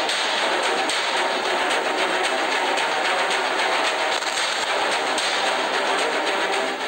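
A bus engine strains continuously as the bus keeps driving forward on a dangerous road beside a ravine, a dense, loud, unbroken rumble and rattle with no talk over it.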